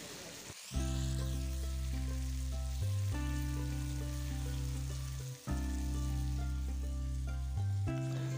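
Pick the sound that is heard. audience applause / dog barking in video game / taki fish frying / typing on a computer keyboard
taki fish frying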